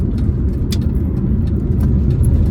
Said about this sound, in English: direct the car into those corners and then just rev it out